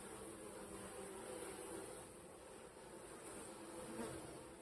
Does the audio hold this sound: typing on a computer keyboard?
no